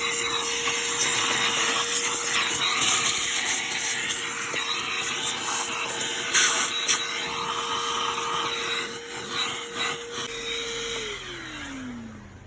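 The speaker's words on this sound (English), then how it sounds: "I'm just going to give it a quick vacuum just to get rid of some of the dust and debris that's around here" A vacuum cleaner draws dust and debris from around a car engine's air filter box, a loud steady whine and rushing hiss running unbroken, its motor pitch sliding down as it winds off at the end.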